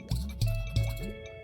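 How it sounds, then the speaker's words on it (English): Three quick, soft percussive taps in a row with a watery, plinking tone, followed by a fainter fourth, under a steady electronic hum: a video game character's taunt sound. "It's like 3 little drum beats."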